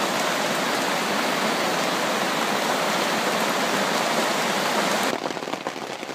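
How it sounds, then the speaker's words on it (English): Steady, dense rain falls outdoors at a summer county camp, a continuous hiss filling the scene before it abruptly thins and softens in the final second. "I don't know if you can hear me, but it's raining again."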